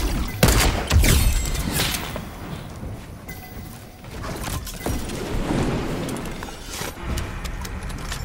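Gunfire in the video game Fortnite, with bursts of shots and impacts in an irregular flurry over a busy game mix. The shots vary from sharp and near to duller, more distant reports.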